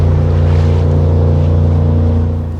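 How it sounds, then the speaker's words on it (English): A loud, powerful jet boat roars past close by on the upper Rogue River, its engine a steady heavy drone that begins to fade at the end. "these really loud, powerful boats going by"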